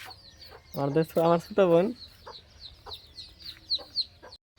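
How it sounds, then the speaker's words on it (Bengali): Several chickens cluck loudly in a newly built backyard coop, with three strong clucking calls up close followed by quieter, scattered clucks while a person talks nearby. "তো এখানে অনেকগুলো মুরগি রাখা আছে"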